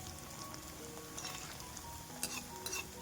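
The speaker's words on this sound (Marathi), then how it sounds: "असं झाऱ्याने थोडं थोडं तेल टाकायचं त्याच्यावर बघा मस्त तळल्या चाललेल्या आहेत" Potato balls deep-fry in hot oil with a continuous soft bubbling sizzle, while oil is ladled over them with a slotted spoon, adding a few light metallic scrapes and splashes.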